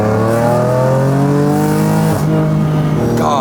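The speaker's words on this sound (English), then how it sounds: "let's get this car ripping and see how it sounds on wide open throttle" Flame-tuned car engine revving hard at wide open throttle, a loud, close, rising roar that climbs in pitch, dips briefly, then surges again before a sharp crackle near the end.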